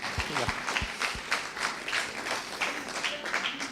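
Audience applause in a meeting hall during an annual general assembly, a steady crackle of many hands clapping together for several seconds, with a few heavier claps near the start.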